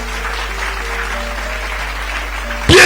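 A church congregation applauding for Jesus: a steady wash of crowd noise under a low hum, swelling into a loud, dense burst of clapping at the very end.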